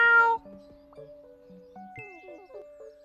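A cartoonish cat meow in the Autonauts video game on Nintendo Switch, one short clear meow at the start followed by soft chiming and tinkling interface tones.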